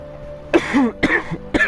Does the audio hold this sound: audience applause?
no